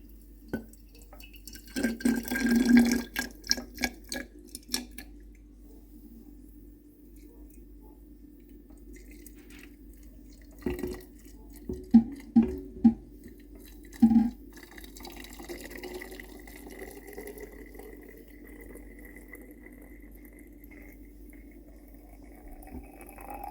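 Water pours and splashes into a container in a few separate bursts, with quiet pauses and faint dripping between them.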